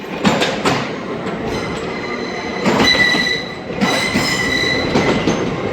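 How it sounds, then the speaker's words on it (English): A Class 800 TransPennine Express train passes close by with loud rolling rumble and clatter. Wheels squeal and whine in high tones, and the loudness swells and dips as the carriages go by. "Bye, Class 800 TransPennine Express."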